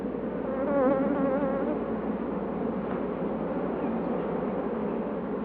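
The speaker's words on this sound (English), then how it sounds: "These are all the African hybrids, to be treated with more caution than the European bees" A dense, steady drone of many buzzing African hybrid honeybees fills the clip, loud and close, with no pauses or voices.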